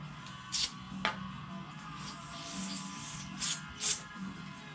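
Brake cleaner sprayed into holes during brake work on a '57 Chevy comes through as a few short, sharp aerosol hisses, close by, separated by quieter gaps over a low background hum.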